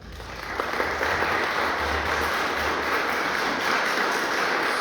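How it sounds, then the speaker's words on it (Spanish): Applause from an audience at a teachers' event in a hall, a dense sustained wash of clapping that swells in after a moment and holds steady at full strength throughout. "pido un fuerte aplauso, por favor."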